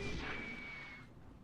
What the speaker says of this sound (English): so you can hear all the artillery and everything.